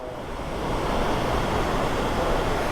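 Hidden waterfall near Charmadi Ghat in monsoon, a steady dense roar of rushing water, loud and continuous, with wind noise mixed in.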